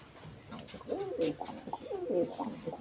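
A mated pair of pigeons coos close by in soft, rolling, repeated calls that overlap and rise and fall in a loose rhythm.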